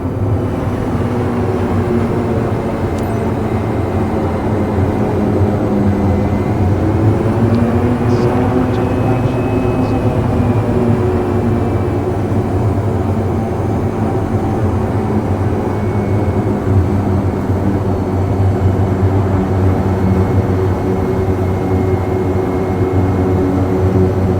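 A water-scooping aircraft in Microsoft Flight Simulator 2024 skims the surface at about 60 knots, giving a steady, loud engine drone and broadband rushing roar that holds unbroken throughout.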